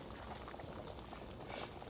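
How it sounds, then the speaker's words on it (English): A pot of water boiling on a stovetop, a steady bubbling roil that holds at an even level throughout with no voices. "I just have a pot of some water there."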